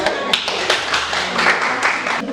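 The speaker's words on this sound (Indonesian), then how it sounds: "Berikan aplaus untuk" A classroom of students claps after a lesson, a short burst of scattered hand claps and taps, loud and close.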